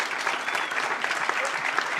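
A crowd at a startup demo day event claps steadily in a brief, even burst of applause at moderate loudness.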